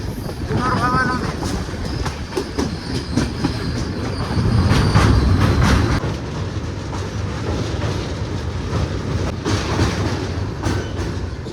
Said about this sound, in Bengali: ট্রেন এসে পৌঁছালো গঙ্গারামপুর রেলওয়ে স্টেশন